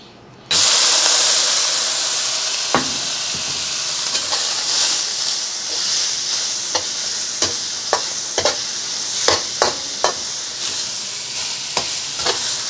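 Hot oil sizzling in a wok for a spicy garlic and string bean stir fry, a loud steady hiss after a sudden start, punctuated by repeated sharp clacks of stirring and tossing over high flame.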